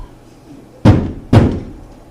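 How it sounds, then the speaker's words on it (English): Two heavy knocks on a gate, spaced a moment apart, each a loud close thud with a short decay, heard in a Shakespeare stage performance. "Knock, knock, knock."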